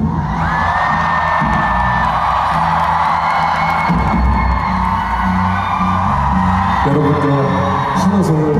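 Concert crowd at a rock show in Gwangju, a dense wall of cheering and whooping that stays loud and steady throughout, with a voice heard over it.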